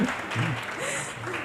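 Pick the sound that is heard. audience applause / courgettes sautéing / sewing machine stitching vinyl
audience applause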